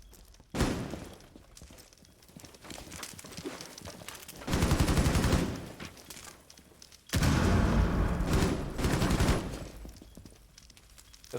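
Bursts of LMG machine gun fire in Rainbow Six Siege, two loud sustained volleys standing out over steadier background gunfire and game noise.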